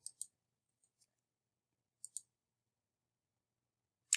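Graphing calculator keys pressed in quick pairs, crisp faint plastic clicks close up in near silence, with a few softer taps in between and one sharper click at the end.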